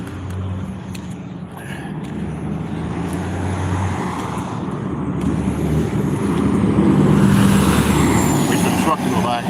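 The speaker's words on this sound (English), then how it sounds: "Wait for the truck to go by." A truck rumbles past on the road outdoors, its low engine roar swelling louder and closer over several seconds, with a hiss like air brakes, amid steady traffic noise and a person talking.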